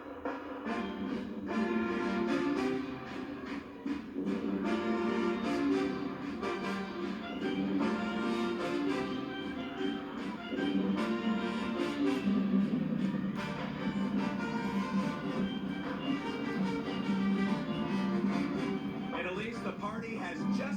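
Dutchtown High School marching band playing outdoors at a morning TV broadcast, a dense, continuous wash of brass and drums heard from a distance, steady and fairly faint.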